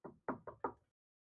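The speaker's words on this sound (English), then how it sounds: "Knock on wood." Knuckles rapping on a wooden surface, four quick knocks in a short burst, close and distinct, then silence, with no talk.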